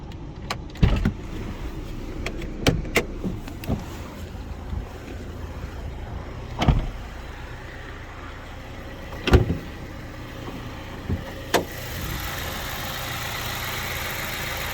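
A BMW E87 with an N43B20 petrol engine, with a faulty timing chain tensioner and a stretched chain, idles steadily outdoors, a continuous low hum broken by occasional sharp clicks and knocks.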